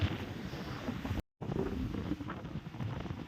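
Strong sea wind buffets the microphone in gusty roaring bursts, with a brief dropout partway through; no talking.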